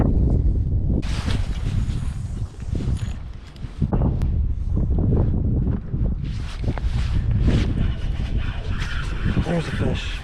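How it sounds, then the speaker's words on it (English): Strong wind gusting over a bass fishing boat out on the water during an April tournament, a loud continuous roar with buffeting against the microphone and a voice talking through much of it. "this wind is really picking up"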